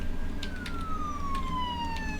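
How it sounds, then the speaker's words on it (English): An ambulance siren in the Emergency 4 video game wails steadily with a slowly falling tone, loud and continuous, over a low rumbling background. "here comes the ambulance"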